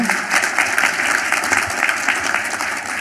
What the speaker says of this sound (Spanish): Un aplauso para el servicio